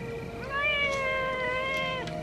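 A cat meows in a 1989 comedy film, a long, drawn-out tonal call lasting nearly two seconds, clear and fairly close against a quiet room background with no talking.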